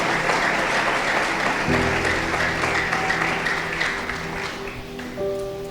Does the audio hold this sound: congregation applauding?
yes